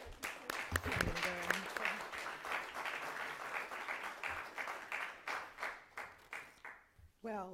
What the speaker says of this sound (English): Let's get a round of applause for the Secretary.